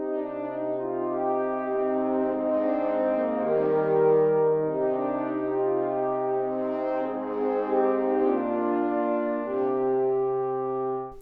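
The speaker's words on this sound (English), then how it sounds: "One of the horns is going to be playing the melody." Four horns in an orchestral track, one carrying the melody while three hold chords beneath it, sustained and smooth with slowly shifting harmonies, playing alone for about eleven seconds.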